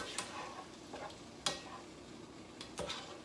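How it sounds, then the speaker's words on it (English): A utensil stirs olive oil around a hot skillet, giving faint scattered clicks and scrapes at irregular intervals over a soft, quiet background hiss. "I'm actually going to stir that around"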